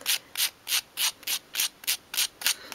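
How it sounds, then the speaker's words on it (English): Medium-grade sandpaper rubbed around the cut edges of a wooden dowel, about ten even back-and-forth strokes in a steady rhythm, close and alone. "use a piece of medium grade sandpaper just to smooth around the cut edges"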